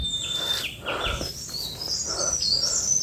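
Several birds chirp and call in high, thin bursts, some overlapping, set against a soft outdoor background on Mount Cikuray's forested slopes, with no talking.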